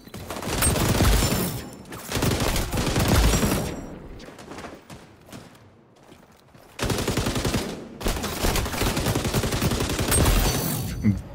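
An M249 light machine gun fires in the shooter game XDefiant, loud sustained bursts with brief pauses between them, the longest stretches of fire at the start and the end.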